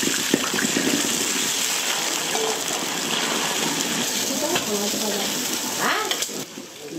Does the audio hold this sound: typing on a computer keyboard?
no